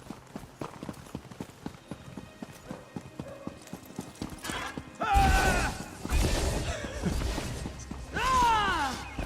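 Steady clip-clop of horse hooves in The Elder Scrolls Online, a regular rhythm of sharp hoof strikes, followed by louder rushing movement, creaks and a whinny-like cry toward the end.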